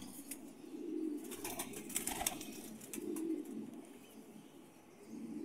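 Pigeons coo in low, repeated rolling calls, and a brief clatter of wings flaps in the middle, close and fairly quiet, with no voices.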